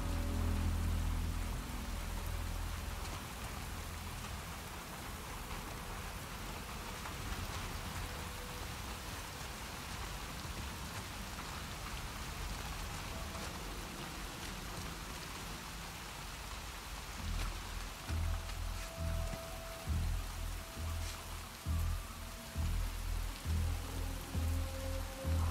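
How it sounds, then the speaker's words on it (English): Rain falls steadily in The Last of Us Part II, a soft continuous hiss with low rumbling thumps building toward the end. "I think the rain sort of prevents us from hearing very well."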